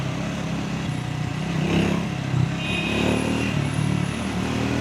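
A Triumph Scrambler 400X motorcycle on a test ride gives a steady, loud engine drone with slight swells, heard from the rider's position amid constant road and wind rush.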